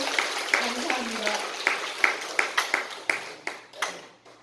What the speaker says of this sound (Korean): 이 모든 분들을 위해서 다시 한번 또 큰 박수 한번 보내드리겠습니다